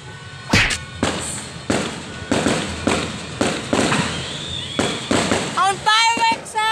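New Year's fireworks and firecrackers going off nearby, a series of sharp loud bangs and cracks spaced about a second apart, with a whistling rocket and people talking near the end.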